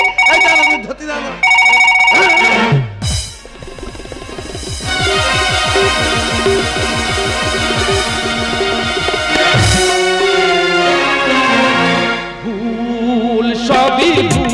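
A telephone rings in two repeated bursts during a staged Bengali gajon folk drama, then gives way to loud, sustained music that fills the rest of the stretch.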